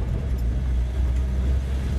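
Steady low rumble of a 1966 Dodge D200 3/4 ton Sweptline pickup engine heard from inside the cab while shifting gears, a constant close drone with no talking.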